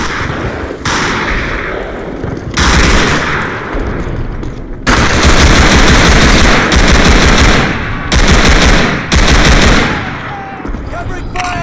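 Loud, sustained Call of Duty machine-gun fire rattles in long bursts with short gaps between them, close and dense, with faint shouted voices in the background.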